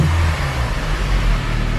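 A Honda EP3 with a stock K24 engine held at a steady, loud, close rev, a continuous engine drone with a low throbbing tone and no voices.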